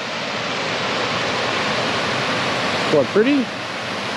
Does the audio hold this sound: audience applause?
no